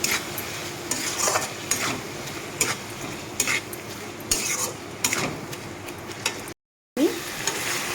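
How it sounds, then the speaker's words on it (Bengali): Spices sautéed with splashes of water for moong curry, a continuous sizzle broken by repeated scraping spatula strokes and metal clinks against the pan, close, with a brief dropout near the end. "মশলার সাথে এইভাবে আমি একটু একটু জল দিয়ে কষিয়ে নেব"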